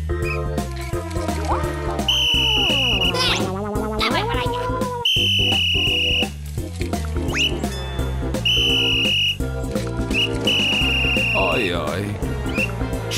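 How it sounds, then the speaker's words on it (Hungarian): A shrill whistle blows several times in short repeated blasts, loud and close, amid cartoon music and sound effects, with a voice speaking. "Megmondanátok, mi ez? Ez egy síp! Síp!"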